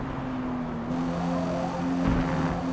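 In Forza Motorsport, a race car's engine and exhaust roar for a brief stretch, the tone shifting as it swells louder near the end.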